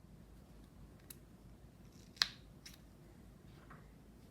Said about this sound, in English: You can cut any remaining length of the tail.